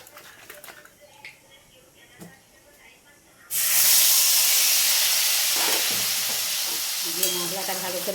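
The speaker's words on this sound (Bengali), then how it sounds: "মশলাটা ভালো করে ভেজে নেব" Poppy seed, cashew and green chili paste drops into a hot pan and bursts into a loud, steady sizzle and hiss that fills the rest of the clip, with faint stirring scrapes near the end.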